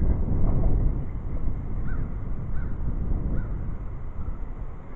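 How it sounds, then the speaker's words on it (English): Steady wind buffeting a microphone outdoors, a low rumbling roar throughout with faint distant bird calls. "It's a little windy out here today, so bear with me if things start to blow around."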